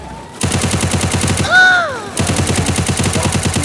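Gunfire in the Free Fire battle game, rapid automatic bursts pounding out a steady rhythm, loud and close, with a short sweeping game tone in the middle before the firing resumes.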